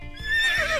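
A cartoon horse in a stable-and-riding show lets out a loud, bright whinny, its pitch rising and wavering over under a second, heard alone without talk.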